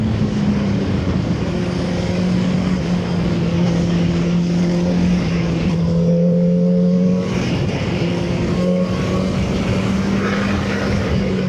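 VOGE RR 500 S motorcycle engine running in 4th gear, a loud, steady drone with its pitch sagging slightly and recovering, plus rushing wind noise, heard from the rider's position with no talk.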